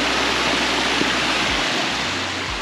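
A stream runs through a rice-field channel toward a waterfall near Fuli, Hualien, producing a dense, even rushing wash that holds steady and loud without a break.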